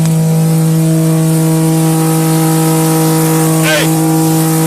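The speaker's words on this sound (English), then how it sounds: "engine's running, looks like it's on fire." A wrecked white Dodge Charger sits off the roadside with its engine still running and appearing to be on fire, giving a steady low idle hum with tonal bands throughout, as a brief swooping sound passes near the end.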